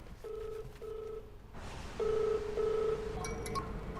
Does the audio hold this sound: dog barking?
no